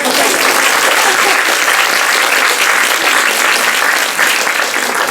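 Audience applause for a film director at a movie premiere screening and talk event, loud dense clapping sustained throughout, close and even in level.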